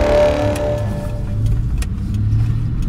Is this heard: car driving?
yes